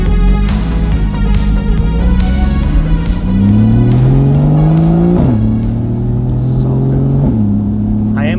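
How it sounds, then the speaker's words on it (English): A Porsche Cayman GTS, rebuilt at home, revs and accelerates hard through several rising gear pulls with engine pitch dropping at each shift, loud and close from inside the car. "Jesse hopped in the driver's seat and went for a little drive"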